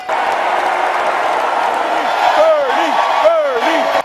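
A political convention arena crowd roars and applauds in a standing ovation, a dense, sustained wall of cheering and clapping throughout, with a few whistles rising near the end.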